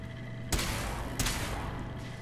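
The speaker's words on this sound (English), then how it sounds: "He's still shooting the traitor." Two sharp gunshots about half a second apart ring out from an in-game pistol in Fallout 4, set against a low steady ambient hum with no talking.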